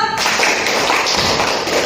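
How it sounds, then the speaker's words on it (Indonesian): A classroom group breaks into a brief burst of dense, close applause that lasts under two seconds. "Tepuk tangan untuk kelompok 1."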